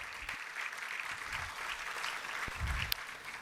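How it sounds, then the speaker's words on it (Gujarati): A small audience claps to open a book launch event for the book Microscope, giving faint, fairly distant steady applause for a few seconds. "તાળીઓના ગડગડાટથી આપણે પ્રોગ્રામની શરૂઆત કરીએ"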